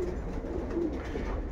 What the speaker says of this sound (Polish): Kapitalne gołębie.